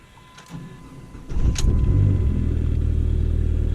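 A cammed Dodge Neon SRT-4 cranks and fires up in bitter cold, with a quiet click and whir before the engine catches and settles into a loud, lumpy, rumbling idle.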